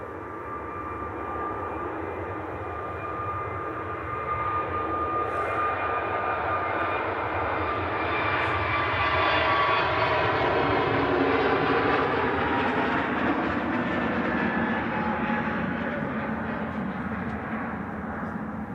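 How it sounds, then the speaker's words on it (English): A Pegasus airliner rolls for takeoff, its engine roar rising to a loud, broad peak midway and then holding steady as the jet accelerates down the runway, continuous and fairly close. "Here goes the Pegasus. Now rolling for the takeoff."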